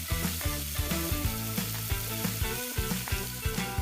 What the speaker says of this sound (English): In the same pan, add the chopped onions and saute until golden brown.